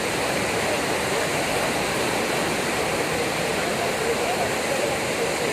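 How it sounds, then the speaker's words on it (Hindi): Fast-flowing flood water rushes in a dense, continuous roar, loud and unbroken like a torrent, with no pauses or distinct splashes. "बाढ़ के पानी का तेज बहाव किसी को भी डराने वाला था।"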